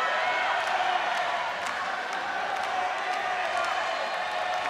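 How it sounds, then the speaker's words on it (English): A heavily partisan crowd at a ONE Championship women's MMA fight roars in a steady, dense wash of voices, chanting for fighter Angela Lee, sustained throughout. "You can hear the chants going up for Angela Lee."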